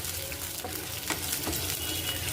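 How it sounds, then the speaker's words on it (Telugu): Green chillies frying in a pan, a faint, steady sizzle with a few soft stirring scrapes and crackles, no voices. "పచ్చిమిర్చి మగ్గించుకోవాలండి."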